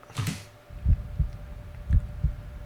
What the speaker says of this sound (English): My heartbeat, which had started to finally calm down, skyrocketed once again